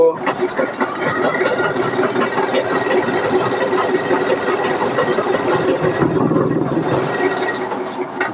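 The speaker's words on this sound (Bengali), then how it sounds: "কোমরের অংশটা বেঁধে নিলাম, দিয়ে করে একটা চাপ সেলাই দিব" A sewing machine runs almost continuously while topstitching a fabric waistband, a steady mid-pitched mechanical whir with a voice talking over it.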